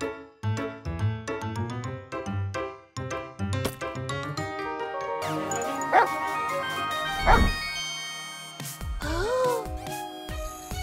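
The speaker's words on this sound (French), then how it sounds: "Aboiement vers le futur." Sharp, repeated cartoonish dog barks in quick succession from an animated cartoon, followed by bright musical tones, a crash and a whimpering yelp.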